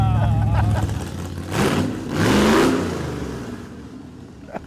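A 1985 C4 Corvette kart engine revving hard during burnouts, a loud, close mechanical roar that rises and swells in waves before easing off, with a sharp pop at the end.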